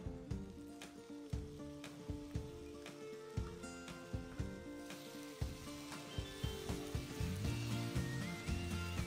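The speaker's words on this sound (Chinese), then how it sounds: "最后加入调味料炒匀" Yam abacus seeds tossed with seasoning in a hot wok, a steady close sizzle of frying with rhythmic scraping stir strokes throughout, growing slightly busier toward the end.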